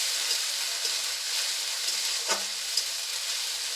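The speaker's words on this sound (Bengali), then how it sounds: "এরপর 2 চামচ মতো পেঁয়াজ বাটা দিয়ে আবার একটু মশলাটাকে ভেজে নেব" Onion paste and spices fry in a pan for a Bengali village-style shol fish curry, producing a steady close sizzle with occasional soft stirring scrapes and no voices.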